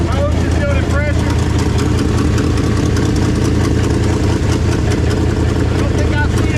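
A 1968 Dodge Charger R/T V8 with a new Alloyworks radiator idles steadily at close range, a loud continuous rumble with no breaks, while a person talks over it.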